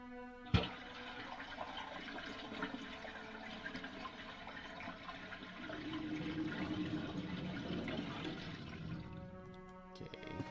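Muddy water gurgling and draining from an unplugged bathtub in a Resident Evil dormitory, a faint steady rushing flow after a sharp click, swelling slightly toward the end.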